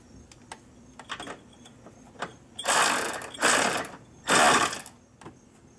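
A nut secured with thread lock being tightened down on a 2016 Kia Sorento HID kit install, heard as light clicks followed by three loud, close bursts of rapid ratcheting, each lasting about half a second.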